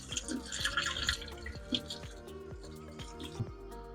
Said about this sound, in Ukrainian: Прольємо її холодною водичкою, щоб вона остила швидше.